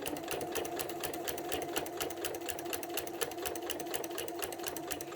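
A sewing machine quilting with a walking foot runs at a fast, steady clatter of rapid even stitching strokes, close and continuous with no speech.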